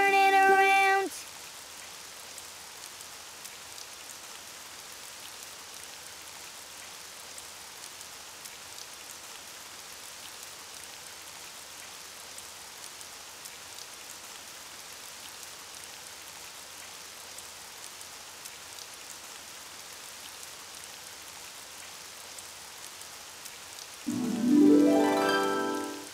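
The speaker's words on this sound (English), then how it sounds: "it's raining outside" Steady rain falls outdoors, a soft continuous hiss of drops on surfaces lasting throughout, with brief bursts of other sound at the very start and end.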